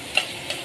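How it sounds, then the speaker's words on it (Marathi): Tomato hits a pan of frying cumin, onion, green chilli and ginger-garlic paste, producing a soft, continuous sizzle with two faint ticks of spatula or spattering. "टोमॅटो टाकलं."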